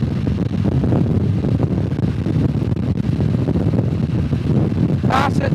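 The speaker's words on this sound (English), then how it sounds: "That's at 60 miles an hour and I'm getting truly wind blasted." Wind roars hard against a rider on a motorcycle moving at 60 mph, a loud, steady broadband rush that fills the whole stretch, with a brief higher whistle near the end.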